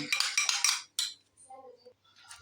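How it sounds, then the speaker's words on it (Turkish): Egg yolk and yogurt whisked in a bowl: a quick run of close, rhythmic scraping strokes, then a single stroke, followed by faint clinks and near silence. "Bir e, tane yumurta sarısı, iki yemek kaşığı yoğurdu iyice çırpıyorum."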